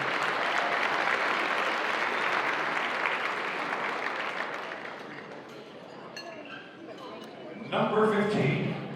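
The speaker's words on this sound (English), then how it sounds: "please share your applause for Jessie Holmes." Banquet audience applauding an Iditarod musher, a broad wash of clapping that slowly fades, followed by clinking glassware and a voice speaking at the end.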